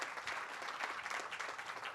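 Steady applause from a church-community crowd at an apartment ribbon-cutting ceremony, dense continuous clapping held at an even level throughout.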